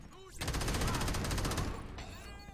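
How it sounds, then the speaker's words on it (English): Explosions and rapid gunfire erupt in the Crackdown video game, a dense burst of repeated blasts and shots that swells loudly for a second or two, then fades. "Many explosions. Many explosions."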